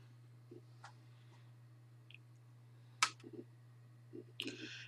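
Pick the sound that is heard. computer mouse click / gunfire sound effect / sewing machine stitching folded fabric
computer mouse click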